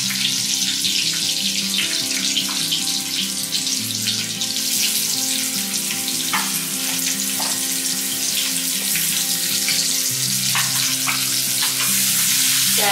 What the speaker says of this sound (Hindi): मैं प्याज डालती हूँ,